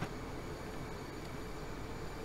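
Simulated train running on the HS1 high-speed line in Train Simulator 2015, a steady low rumbling drone that stays loud and even throughout with no talking.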